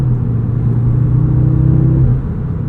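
A 2025 Audi S3 accelerating hard, heard from inside the cabin: a loud steady engine drone with a strong low hum that holds and then eases off near the end.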